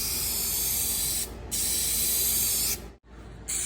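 Close, loud hissing bursts of an aerosol spray can laying light paint coats on a Ford F-150 fender emblem, three sustained passes separated by brief pauses.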